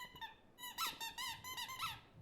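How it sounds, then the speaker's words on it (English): Repeated rubber squeaky dog toy squeaking, a run of five or six sharp, bright squeaks in quick uneven bursts, close and loud with no talking. "Pip would bring Jasper his favorite squeaky toy,"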